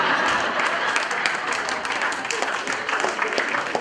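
An audience claps together at a Gujarati Samaj of Kansas City gathering, a dense, steady wash of many hands that stays loud and even throughout with no pause.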